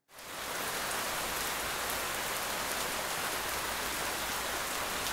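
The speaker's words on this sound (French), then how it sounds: "tu t'es fait prendre par la pluie" Steady, dense rain falling on a surface, a constant hiss of drops with no pauses, fairly close and even throughout.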